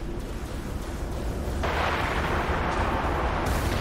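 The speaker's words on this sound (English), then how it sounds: "oh, you fire a nuke at me?" A nuke fired at a ship in the Dreadnought space combat game, heard as a continuous roaring rumble that swells brighter and heavier partway through, loud and sustained with no talk.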